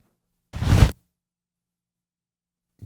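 A single quick fabric swish, like a jacket moving through the air, short and close, then silence with a faint thump at the end.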